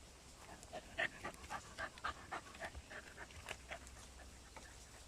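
A dog pants in quick, rhythmic breaths, close and fairly quiet, with no voices and a faint low hum underneath.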